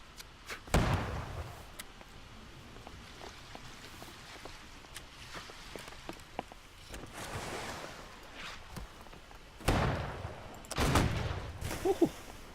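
Naval cannon fire from an 8-gun sloop in a Holdfast: Nations At War sea battle, with several loud booming shots, two heavy clusters near the end, over a steady background of sea and battle noise.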